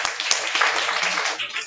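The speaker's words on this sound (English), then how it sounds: "we should clap for him" Clapping from a small university lecture class, a brief steady patter of hands throughout.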